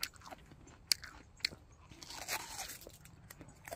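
Crisp bites into a large, sweet, fresh persimmon picked from an orchard, giving a few sharp crunches followed by softer chewing, close and fairly quiet.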